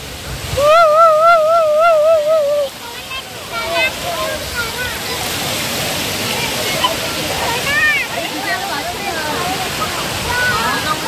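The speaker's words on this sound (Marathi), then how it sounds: "भाजी धबधब्याला नक्की भेट जा" Bhaji waterfall on the way up to a hill fort, a steady broadband rush of falling water running throughout, with a voice briefly heard near the start over it.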